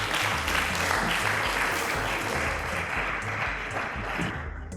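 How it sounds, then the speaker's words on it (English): A studio audience at a televised school quiz show applauds a junior contestant, a dense, sustained wash of clapping at steady loudness over a low musical bed throughout. "Round of applause to Maje."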